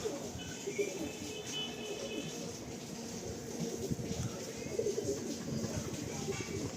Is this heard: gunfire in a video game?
no